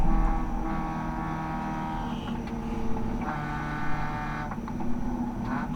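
Spec Miata race car lapping Barber Motorsports Park, its engine droning steadily from inside the cockpit with small shifts in pitch as it rises and falls, loud and continuous with no talk.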